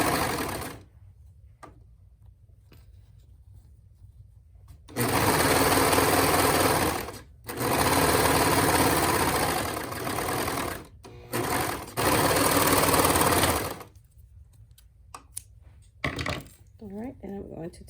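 A serger sewing machine stitches fabric for a purse bag cover in loud, steady whirring bursts lasting several seconds each, separated by quiet pauses with small handling sounds.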